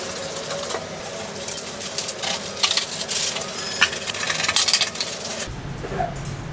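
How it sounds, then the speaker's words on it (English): Brisk, close scrubbing and rubbing while a bathroom is cleaned, steady and textured with small knocks and scrapes, fading near the end. "Now I'm cleaning the bathroom"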